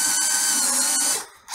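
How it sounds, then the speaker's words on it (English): A Ryobi cordless drill bores holes, a loud close high-pitched whine running steadily for over a second before cutting off, then the motor briefly picks up again. "I'm going to use the Ryobi to drill the remaining holes"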